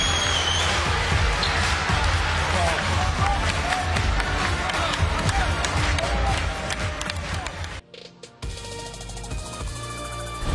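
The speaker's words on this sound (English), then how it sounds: "DiVincenzo's got the Villanova crowd on their feet." A Villanova crowd cheers loudly at a college basketball game against Tennessee, a dense roar with shoe squeaks and ball bounces that stays high for most of the stretch before cutting off near the end.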